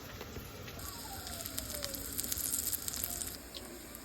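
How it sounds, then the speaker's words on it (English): Carrot pancakes fry in a pan with a steady, soft sizzle and scattered crackling pops that grow a little livelier midway, heard up close with no one talking. "we're just gonna let them fry"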